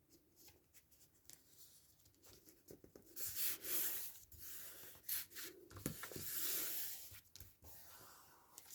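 A blade cuts and scrapes through book pages along a ruler for a paper pocket craft. Faint, close scratchy rubbing comes in uneven strokes, getting stronger partway through, with no talk.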